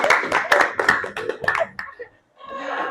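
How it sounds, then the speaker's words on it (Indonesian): A classroom of students claps hands in a short, uneven burst close by, tapering into murmuring voices and a brief pause before chatter resumes. "Oke, tepuk tangan."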